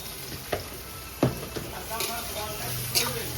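Nashik onions frying in a pan at a small homemade eatery, a steady low sizzle with scattered louder crackles and pops, fairly close.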